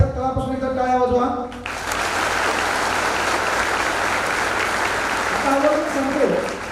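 An audience of students at a science academy event in Baramati claps for their teachers. A voice speaks first, then loud, sustained applause fills the hall, and talk returns near the end as the clapping fades.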